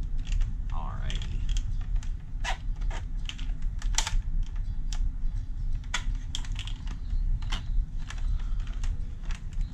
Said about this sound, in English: Let's just click everything into place.